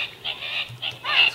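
Angry Birds game sounds play from a Huawei S7 tablet, with bird squawks and honks in short bursts, fairly loud and nearby, over a faint low hum.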